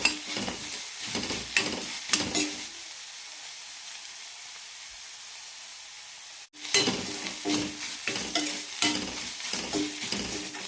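Ginger garlic paste and masala roasting in a pan for paneer gravy: sizzling and stirring scrapes in bursts, a quiet pause midway, then the sizzling and stirring pick up again.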